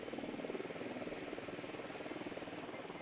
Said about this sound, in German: Wo ist der Hubschrauber?